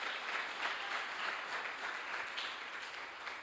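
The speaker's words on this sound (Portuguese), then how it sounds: "Aplauda Jesus, irmão." A church congregation claps for Jesus during a sermon, a brief burst of fairly soft, even applause from the room.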